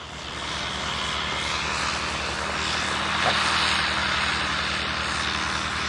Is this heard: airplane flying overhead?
yes